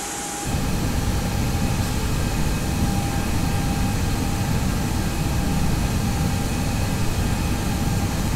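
Inside an Airbus A320 cabin with Pratt & Whitney PW1000G geared turbofan engines, a loud, steady jet drone and rushing air hold constant throughout, with a few faint tonal hums running underneath.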